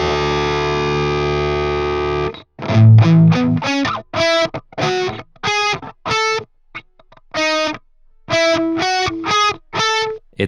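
Distorted electric guitar playing a riff, a sustained droning chord followed by a series of short, punchy picked notes that ring out with clear harmonics, loud and upfront with effects coloring the tone.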